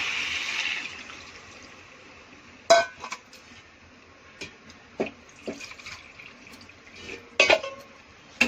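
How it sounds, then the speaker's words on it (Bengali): Water is poured into a cooking pot of sautéed curry, with a brief rush of pouring at the start followed by scattered clinks and knocks of a pot and utensil, close by with no talking. "কষানো হয়ে গেল, একটু জল দিয়ে দেবো।"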